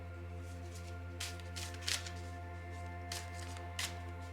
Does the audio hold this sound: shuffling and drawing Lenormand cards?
yes